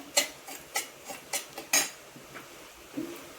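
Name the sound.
semolina (rava) being dry-roasted and stirred in a pan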